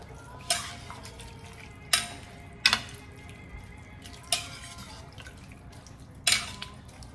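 A spoon scrapes and sloshes through seasoned ground meat and water in a pot for chili beans, five or six distinct stirring strokes spaced irregularly, close and moderately loud, with a faint background hum and no talking.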